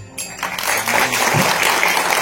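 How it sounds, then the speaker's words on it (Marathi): An audience applauds a Dashavatar folk-theatre troupe from Konkan at a trailer launch, with dense, loud clapping that swells after a brief opening and holds steady. "एकदा जोरदार टाळ्या श्री देवी माऊली दशावतार मंडळींसाठी."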